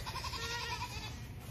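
A Nigerian dwarf goat on a farm gives one close, wavering bleat lasting about a second, a quavering nasal cry that trails off.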